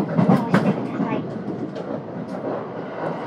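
A Hapi-Line Fukui train on the Tsuruga to Fukui run, heard from inside the carriage: a steady, close rolling rumble with faint clicks over the rails.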